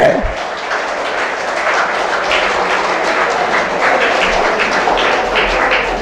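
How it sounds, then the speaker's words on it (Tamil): Sustained crowd applause at a Tamil university ceremony, dense steady clapping from many hands throughout, fairly loud and continuous with a brief quieter moment near the start. "நல்லா கைத்தட்டுங்க"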